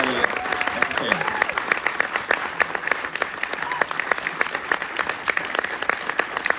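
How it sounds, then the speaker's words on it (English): Lively applause and crisp individual claps from an evening audience at an Air Force Thunderbirds Q&A event, sustained and fairly close, with faint voices briefly audible near the start. "So, the round of applause, Matt, Elliott, and Kavanaugh"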